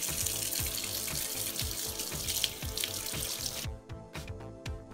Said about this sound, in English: And then I washed the etching cream off with a little soap and water.